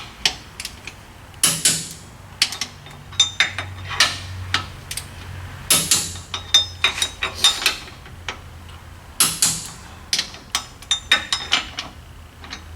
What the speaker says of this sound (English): so we'll check torque on all four again.